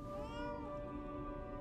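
A cat meows in the video game Lies of P, one drawn-out, tonal cry that stays steady and fairly loud for under two seconds with no talk over it.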